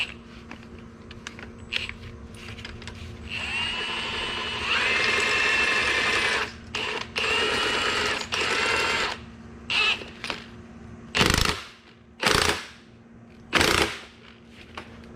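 A ratchet with a 19 mm socket turns a spring compressor while replacing a front magnetic shock absorber on a 2015-2018 GM vehicle, producing close bursts of rapid clicking separated by pauses, ending with a few short, louder strokes.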